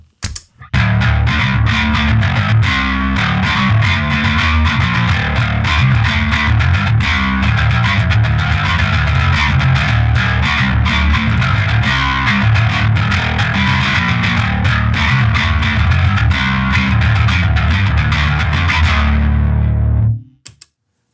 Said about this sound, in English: what does it sound with distortion?